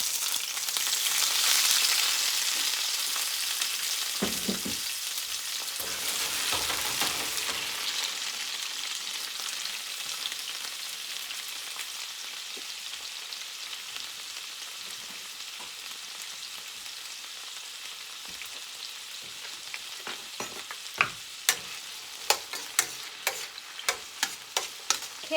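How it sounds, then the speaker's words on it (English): Vegetables for chicken fajitas hiss loudly as they hit hot oil, settling into a steady sizzle with stirring and a few sharp utensil clicks near the end. "And then after the oil, we're gonna put our vegetables."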